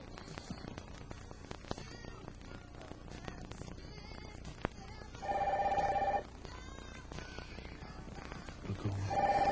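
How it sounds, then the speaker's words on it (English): An old-style telephone bell rings in two loud bursts in an indoor scene, the second starting just as the clip ends, over soft room sound and quiet background music. "What is it with this phone?"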